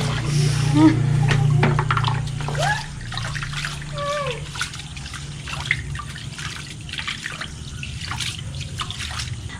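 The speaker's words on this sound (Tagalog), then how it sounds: "Marunong naman kayo lahat maghugas ng bigas" Rice being washed by hand in a basin of water, with trickling, dripping and swishing sounds, a low steady hum beneath, and a person talking over it.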